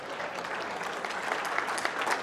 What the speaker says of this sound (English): you give that a clap.